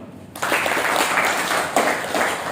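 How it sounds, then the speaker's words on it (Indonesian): Applause breaks out abruptly from a seated audience at a business motivational talk, many hands clapping loudly and steadily right after a brief quiet moment, continuing without speech. "Tepuk tangan teman-teman"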